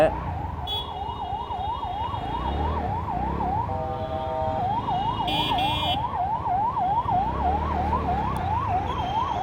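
An ambulance siren wails continuously, its rising and falling tone cycling rapidly over traffic rumble, loud and close throughout.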